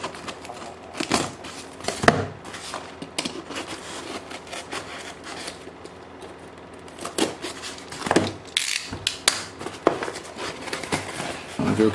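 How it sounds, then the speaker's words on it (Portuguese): A dull utility knife cutting open glued cardboard packaging, with scattered scraping cuts and crinkling bursts separated by quieter stretches, close and fairly faint. "Então agora tem que cortar aqui do lado que ela tá colado, ó. Eita, estilete cego."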